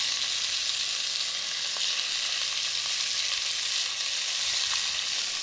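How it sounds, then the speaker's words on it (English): Cubes of chuck roast sear in a hot pan for Texas red chili, producing a loud, dense, continuous sizzle with small pops throughout. "I'm gonna toss it around and just get nice sear and browning for like 6 to 8 minutes."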